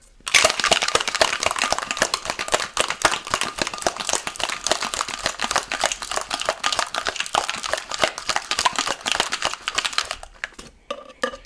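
A cocktail shaker with orange juice and ice is shaken hard for about ten seconds, a rapid, loud, continuous rattle of ice against the tin that stops abruptly at the end.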